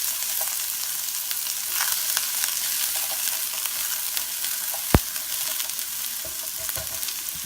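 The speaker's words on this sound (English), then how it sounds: "I'm going to pop down a half an onion, and I've got 4 cloves of garlic, and I'm just going to saute those up" Half an onion and four cloves of garlic sauté in a pan over lowered heat, a steady close sizzle and crackle running throughout with one sharp clink partway through and no talking.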